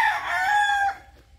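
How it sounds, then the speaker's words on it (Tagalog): A pumpkin sweater rooster in a backyard flock crows once, a loud close crow that trails off into quiet. "So gwapong manok po ito."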